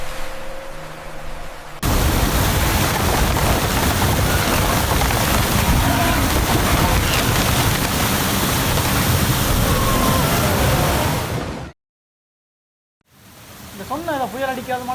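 Floodwater rushes around submerged buses with a loud, continuous roaring wash that starts abruptly, holds steady, then cuts off into silence; voices are heard before and after the roar.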